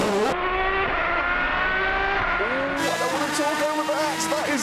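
Aston Martin DBR9 race car accelerating hard through a track lap, loud close engine howling through rising gear sweeps with brief shifts, a commentator talking over it.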